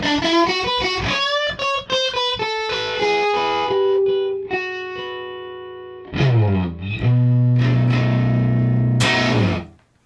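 Bluesy guitar licks and ringing chords come through a handwired '64 Custom Princeton Reverb amp driven into its own distortion, with the reverb and vibrato switched off. The sound is dry, close and loud, with a final chord that cuts off sharply and no talking.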